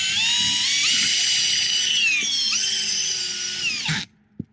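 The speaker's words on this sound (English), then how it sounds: "We put long screws with plates, and that way," A power drill drives long screws with plates into a peel-and-stick rubber roof. It gives a loud, close, steady whine for about four seconds, its pitch shifting as the screw bites, then cuts off and a single click follows.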